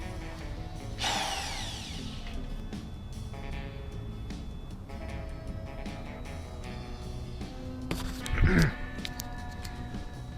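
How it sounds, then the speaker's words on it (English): A power drill drives a screw extractor into stripped screws during a clutch install on a Harley-Davidson Dyna, heard as intermittent whirring bursts with a brief louder squeal near the end. "I picked up some new screws"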